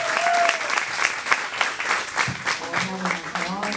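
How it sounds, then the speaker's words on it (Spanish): Loud, full audience applause greets a guest on a Spanish-language music show, rising and falling unevenly with voices heard over the clapping. "fuerte el aplauso para él"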